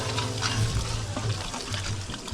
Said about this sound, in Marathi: त्यामध्ये थोडं पाणी टाकलं ग्रेव्ही लागणार नाही